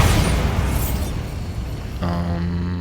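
A Confringo spell in the Hogwarts Legacy video game bursts with a loud, rumbling boom that fades, followed by a sustained tonal ring from the game.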